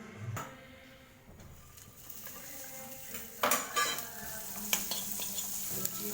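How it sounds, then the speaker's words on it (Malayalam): Green chilli, curry leaves and ginger-garlic paste sautéed in a pan for beetroot pickle, a soft steady sizzle with a few sharp spoon-stirring scrapes and clinks, close and alone. "പച്ചമുളക് കറിവേപ്പില ഇഞ്ചി വെളുത്തുള്ളി പേസ്റ്റ് ഇതിനെ വാട്ടിയെടുക്കാം"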